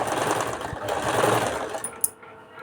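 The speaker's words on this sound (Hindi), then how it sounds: "ये हम इसे आगे की तरफ फोल्ड करके सिलाई करेंगे।" A sewing machine stitches folded blouse fabric, running with a steady close whirring rattle that stops near the end, followed by a brief click.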